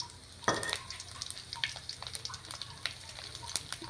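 Fennel, carom, cumin and mustard seeds drop into hot oil for a carrot, radish and green chilli pickle, setting off a close crackling sizzle with scattered pops and the clink of a stirring spoon.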